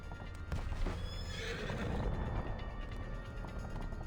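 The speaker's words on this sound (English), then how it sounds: "The horse gives a long, glad whinny" A horse in the video game Reverse: 1999 lets out a long whinny over steady clip-clop hoofbeats, with faint mechanical clicking and gear-like ratcheting mixed in.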